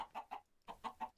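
Chickens in the Minecraft Stoneblock 2 modpack, clucking in two short bursts of three rhythmic clucks each, close and clear against a quiet background.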